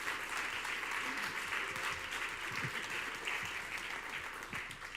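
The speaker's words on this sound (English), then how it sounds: "So everyone give a round of applause to Ash." Steady applause from a large audience at a business talk in Birmingham, filling the room with dense, continuous clapping at an even level throughout.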